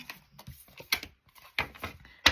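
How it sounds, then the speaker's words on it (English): Oracle cards being shuffled by hand, giving quick soft riffling clicks and slaps in irregular bursts, close and fairly quiet with brief pauses between them. "Finish the shuffle."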